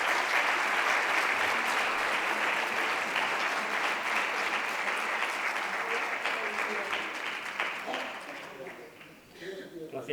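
Audience applause closes a plant health forum, a dense, sustained clapping from a sizeable crowd that holds steady and then thins out toward the end.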